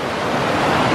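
Creek water rushes as backpackers wade across it in Lassen Volcanic National Park, a close, steady broadband wash of flowing water lasting about a second, with no talking.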